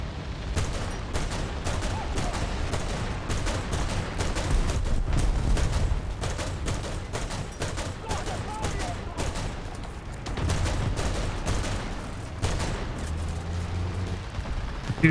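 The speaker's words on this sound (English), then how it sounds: "I've been firing a lot of shots." Dense, rapid bursts of tank gunfire and explosions in War Thunder, crackling almost continuously for the whole stretch with louder thumps now and then, loud and close.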